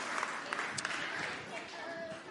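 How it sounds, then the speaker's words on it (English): A congregation at a Christmas Eve carol service claps in a steady wash of applause, fairly faint and distant, with a few sharper claps standing out over a murmur of voices. "give him a round of applause"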